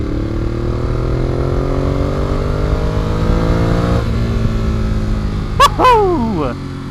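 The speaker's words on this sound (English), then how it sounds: "So here we are on the brand new Ducati Monster" A 2014 Ducati Monster 821 motorcycle on a test ride, its engine droning loud and close with rising revs, then a sharp rev surge near the end, under wind noise.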